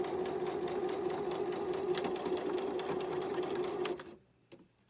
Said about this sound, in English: Get ready for that back stitch at the end.